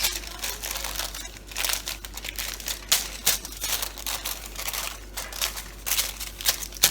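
Aluminium foil being folded around a hair highlight section, giving close, continuous crinkling and crackling with repeated sharper bursts as the foil creases.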